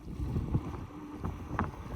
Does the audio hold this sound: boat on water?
yes